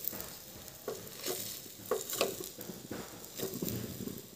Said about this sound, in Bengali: এরপর ডিমটাকে উল্টে দিচ্ছি যাতে সব দিক থেকে খুব ভালো করে এখানে ভাজা হয়ে যায়